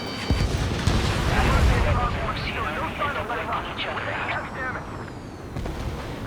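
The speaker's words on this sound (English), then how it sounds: "Strider 1, missile launched." Missile launch and explosions during aerial combat in Ace Combat 7: Skies Unknown, a dense rumbling of blasts and jet noise with rushing whooshes, while radio chatter voices talk over it.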